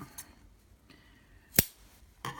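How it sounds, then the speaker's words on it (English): Scissors make one sharp, close snip through piping cord at a sewing table while a piped pin cushion is finished, with a fainter rustle of fabric after it in a quiet room. "I'm going to clip my cording back a little bit."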